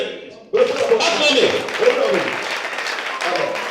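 A church congregation bursts into sustained applause and cheering, loud and continuous after a brief quieter lead-in, with voices mixed into the clapping.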